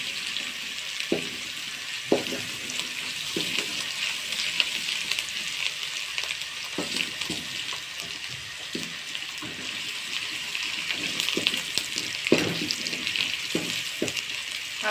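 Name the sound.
mixed vegetables (potato, peas, carrot) frying in a pan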